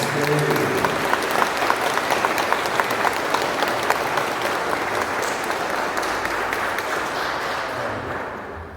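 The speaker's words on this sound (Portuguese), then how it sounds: "Uma salva de palmas." A church congregation applauds at a pilgrimage Mass at a Bom Jesus de Pirapora sanctuary in Valinhos, with loud sustained clapping from many hands that fades slightly toward the end.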